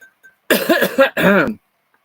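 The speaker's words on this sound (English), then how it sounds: "I'm going to clear my throat" A person clears their throat twice in quick, rough bursts, close and fairly loud, with silence around them.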